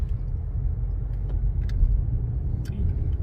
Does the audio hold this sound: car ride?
yes